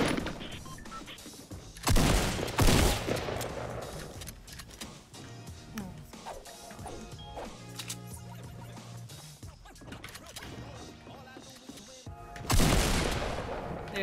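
Gunfire in the Fortnite Battle Royale video game, with sharp bursts of shots and two louder blasts standing out over a busy background of game effects, while a player talks intermittently.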